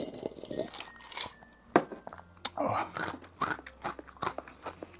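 Crunchy bites and chewing of old-style mixed rice topped with spicy gluten strips, with braised pork alongside, sounding close and wet with repeated crunches in an uneven rhythm, mixed with soft murmured speech.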